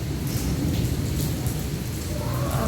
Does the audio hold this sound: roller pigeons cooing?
no